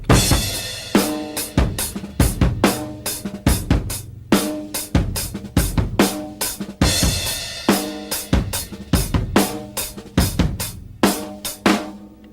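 Dry, unprocessed drum kit plays a heavy, slow groove, with booming kick and sharp snare hits in a steady repeating pattern, close and loud with no room ambience.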